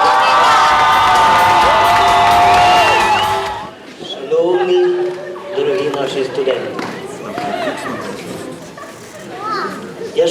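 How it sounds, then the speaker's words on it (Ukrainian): A college hall audience at a student comedy contest cheers and claps loudly to welcome the college director, then the roar drops away to scattered shouts, children's voices and chatter. "Вітайте шаленими оплесками директора Канівського училища культури і мистецтв Віктора Петровича"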